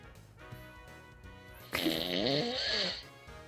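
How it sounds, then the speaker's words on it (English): A person snoring during a Pokémon game livestream, one long rasping snore of about a second and a half rising clearly above a quiet voice-chat background. "Yeah, that sounds like a snore."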